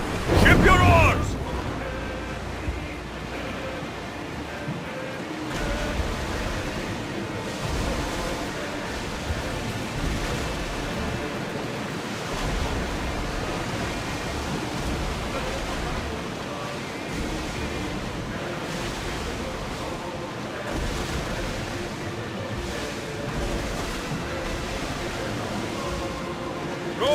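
A galley ship in Assassin's Creed Odyssey surges through the waves at full speed, with steady rushing water and wind noise filling the whole stretch. Brief voices and game sounds sit on top at the start.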